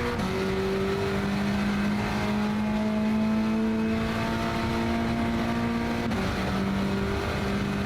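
A car engine whines at sustained high revs in a racing video game played on a Fanatec GT DD Pro wheel, with a steady tone that holds and then drops slightly, loud and continuous without talk.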